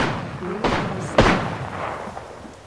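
Video game gunfire sounds as two sharp, fairly distant shots about half a second apart, with a dull rumbling echo trailing away over a steady background wash.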